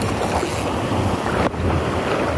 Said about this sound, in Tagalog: Ayan, mga alon. Malaki.